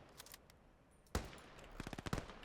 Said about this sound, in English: Oh, he got shot anyway by someone else.